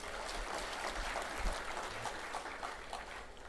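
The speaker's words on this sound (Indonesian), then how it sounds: "Tepuk tangan untuk semuanya." Applause fills a church service as the congregation claps together, a dense, steady wash of hands that continues throughout with no voices over it.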